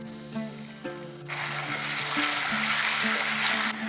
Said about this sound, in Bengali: আদাটাকেও 30 সেকেন্ডের মতন ভাজা ভাজা করে নিয়েছি।